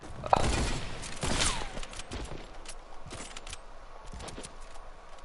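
Fortnite gunfire in several sharp bursts, one shot early and more scattered through the rest, with clicks and mechanical rattles between them, all fairly faint.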